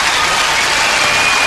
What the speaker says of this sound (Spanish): Con el aplauso del Patagual